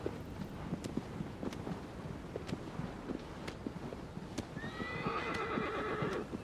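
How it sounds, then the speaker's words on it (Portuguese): Horse in the video game Shadow of the Colossus, with steady hoof clip-clops over a rustling, windy outdoor bed, then a high whinny and rising tones near the end. "o cavalo corre bem devagarzinho"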